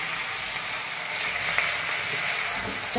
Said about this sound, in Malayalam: ഇച്ചിരി നന്നായിട്ട് വഴറ്റി ഇലയുടെ കളറൊക്കെ നല്ല ബ്രൗൺ കളറായിട്ട് വരണം